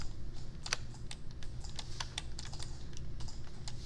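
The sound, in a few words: computer keyboard key held and mouse clicking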